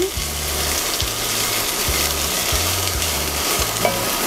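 Onion and ginger sizzle steadily in a hot pan while a utensil scrapes and stirs them in repeated low strokes, a continuous close frying hiss throughout.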